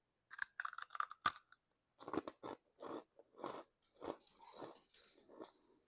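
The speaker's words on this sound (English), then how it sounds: "they have the crunch and the consistency of biscotti" Someone bites into leftover cake that has been baked again until it is crisp like biscotti, a close, quiet series of crisp crunches and chewing bursts separated by brief pauses.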